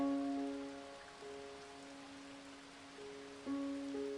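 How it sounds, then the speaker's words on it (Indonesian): Steady, soft rainfall hissing evenly throughout, accompanied by gentle sustained piano notes that ring out and change every few seconds. "dengerin suara hujan yang diiringi alunan piano"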